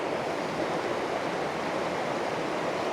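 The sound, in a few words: stream flowing near a waterfall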